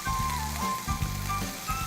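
Soy sauce sizzles and crackles loudly in a hot pan while sea squirt fried rice is being made, a steady close frying hiss with bright spitting pops throughout.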